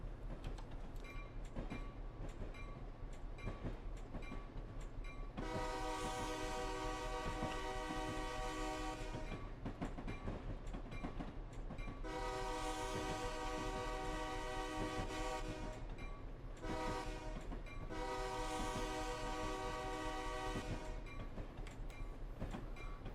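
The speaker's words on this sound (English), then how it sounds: "I'm going to go ahead and shut up so you guys can listen to the horn" Union Pacific GP38-2 diesel locomotive horn in Train Simulator 2020, sounding in long loud blasts at a whistle post: two sustained chords, a short toot, then a final long blast over steady engine and rail rumble.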